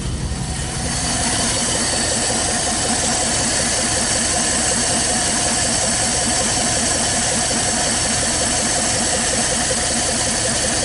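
A 1956 Buick 322 Nailhead V8, a barn-find engine just started for the first time, runs steadily at idle with a dense, continuous loud rumble and a rapid, even pulse throughout.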